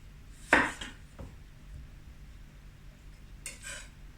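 Knife cutting the tops off two whole tomatoes for a lamb potjie: one sharp slicing knock on a board, then a softer cut, a long pause, and another brief cut near the end, no talking.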